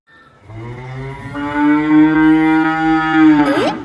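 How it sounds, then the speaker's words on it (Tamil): Cartoon cow mooing from inside a house: a single long, loud, close moo that rises and holds steady before breaking off. "மாடு வீட்டுக்குள்ள இருந்து சத்தம் போடுது"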